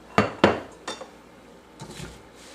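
Apple turnover filling stirred in a pot on a stove over medium-low heat, giving two sharp clanks of a utensil against the pot followed by softer scraping and knocks, close and alone.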